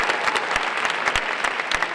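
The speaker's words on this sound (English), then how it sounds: "How about giving BU a round of applause?" A seated audience at a scholars' kickoff event gives a round of applause: a close, lively burst of many hands clapping, with sharp individual claps popping out of the steady patter throughout.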